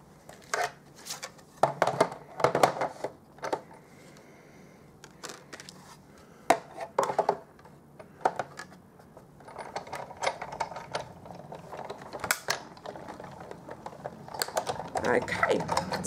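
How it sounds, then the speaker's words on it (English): A Big Shot die-cutting machine cranks paper through a die while a card is cut: close, uneven clicks, taps and rustling, at times in quick rhythmic runs. "I'm going to take this through the Big Shot. And I'm going to cut out a little window."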